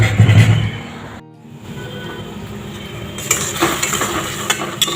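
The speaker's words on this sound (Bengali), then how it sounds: "এই কড়াটা ধুতে হবে" Close clatter of a karai (wok pan) being washed, with metal scraping and knocking, brief splashing, and running water hissing in the background; a short lull partway through.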